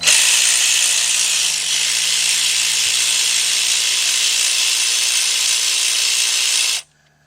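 Power tool whirring steadily while removing a bolt from an engine timing cover on a GM V6 during timing chain replacement, loud and continuous for several seconds with a brief dip, then stopping abruptly.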